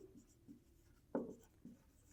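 Pen or pencil strokes on paper while writing out a math solution: soft, sparse scratches, with one clearer stroke in the middle, quiet and close, with no talking.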